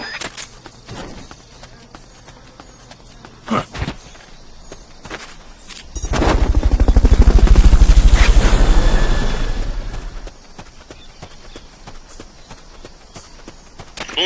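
Helicopter for a Fulton recovery in the video game Metal Gear Solid Peace Walker, a loud whooshing rotor roar that swells in the middle and then fades, with quieter game sounds before and after and no talk.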